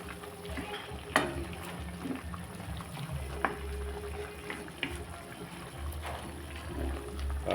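Pork belly simmering in Sprite in a pot for adobo, with a soft continuous bubbling and trickling broken by occasional sharper pops and clicks. It is heard fairly close and quiet, with no talking.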